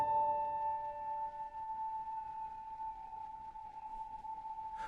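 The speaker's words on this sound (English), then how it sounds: "I went for the free Foundations piano from Heaviosity, and out of the box it already sounds like this." Heaviocity Foundations free piano library played as loaded: a soft, sustained tone holding steady for several seconds over a faint textural bed, quiet and alone with no talk.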